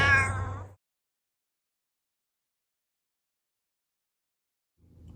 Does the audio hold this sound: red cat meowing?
yes